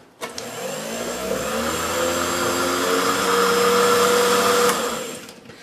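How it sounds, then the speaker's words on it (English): A kitchen blender purees apricot preserves in one steady, loud whirring run lasting several seconds, the motor pitch rising slightly as it spins up, then cutting off cleanly. "we want to make sure all that apricot preserves is pureed"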